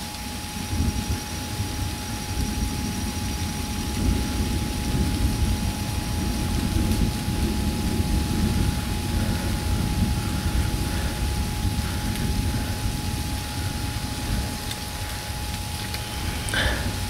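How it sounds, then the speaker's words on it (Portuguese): A thunderstorm pours steady, dense rain throughout, with low rumbling thunder rolling underneath; loud and continuous, no talking. "Dá pra escutar os trovões, né?"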